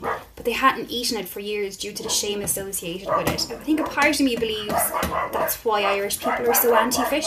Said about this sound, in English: Sorry about the dogs, I literally have no way to stop them from barking